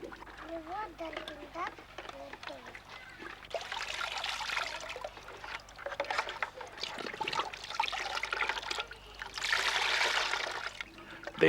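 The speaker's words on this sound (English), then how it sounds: "They learn that water comes through a soap dish." Water poured from a bucket trickles and splashes through a soap dish and cups as children experiment with simple materials, with voices heard throughout and louder bursts of splashing near the end.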